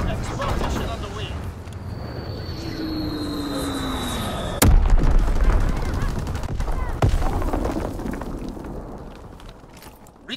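Aircraft strafing gunfire in a WW2 video game, a sharp loud burst followed by rattling fire under game voice announcements and a descending engine whine.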